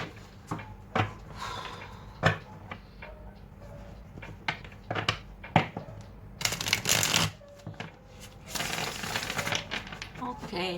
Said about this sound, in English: Ooh, that was a bad shuffle.